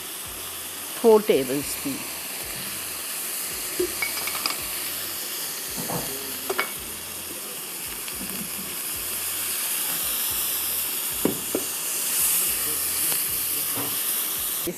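Red onion hitting hot oil in a pan sets off a loud, continuous sizzle and hiss, with a few clanks and stirring scrapes while someone speaks briefly over it.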